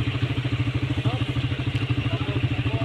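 A motorcycle engine runs with a rapid, pulsing throb and light rattling, loud and close for the whole stretch.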